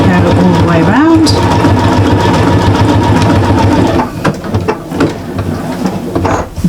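A sewing machine runs a zigzag stitch around the edge of a quilted flower mat, a fast steady mechanical whirr that eases off and turns intermittent near the end while a person talks over it.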